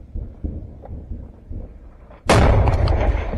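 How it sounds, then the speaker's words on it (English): Grenade detonating in a basement during combat, a sudden loud broadband blast after quieter muffled thumps and rustling, the boom filling the last second with heavy rumble and debris. "Nade explodes, blowing out the whole basement."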